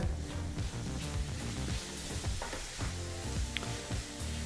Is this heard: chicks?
no